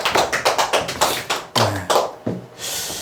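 Close, sharp hand claps from a small audience at a sales talk, several quick uneven bursts over about three seconds, loud and up front, then a fading rustle.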